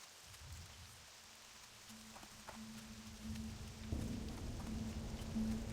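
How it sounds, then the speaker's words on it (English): Rain weather effect in World of Warcraft at Silverpine, a steady soft patter of rainfall with scattered droplet ticks, growing slightly louder toward the end, with no talk over it. "It's a rainy day in Silver Pine."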